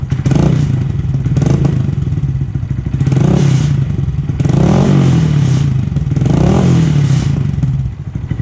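A Honda Grom 125 motorcycle engine with an exhaust leak idles and revs in repeated surges, with a steady rough exhaust tone and rattling clatter throughout, loud and close.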